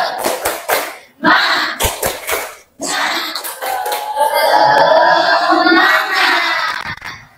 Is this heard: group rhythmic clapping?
yes